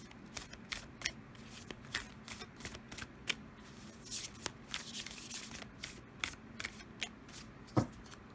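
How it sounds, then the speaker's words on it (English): Oracle cards from a Nature's Whispers deck are shuffled by hand, a soft rhythmic riffle of repeated flicks and slaps, close and fairly quiet, with no voice. "Let's draw you a few cards from the Nature's Whispers Oracle deck."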